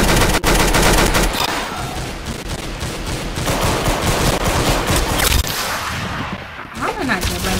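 Rapid automatic gunfire in a shooting video game crackles in dense, loud bursts almost throughout, with sharp individual shots and a brief lull near the end.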